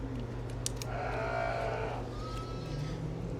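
Young ewe lambs bleat repeatedly, close and fairly loud, over steady barn noise on a Canadian sheep farm during lambing season.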